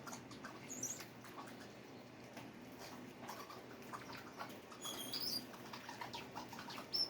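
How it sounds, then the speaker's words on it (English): A flock of European starlings descends in a horde onto a bird feeder, wings flapping and pattering continuously at close to mid range, with scattered faint chirps and rustling but no talk. "Look at that, how they come down in a horde. Are those European starlings?"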